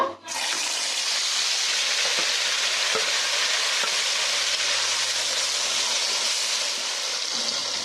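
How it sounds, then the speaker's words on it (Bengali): Fried mutton in a pan for mutton kosha sizzles loudly and steadily as gravy goes in, with faint scrapes of stirring under a continuous hiss and no talk. "এখন আমি গ্রেভিটা দিয়ে দেবো"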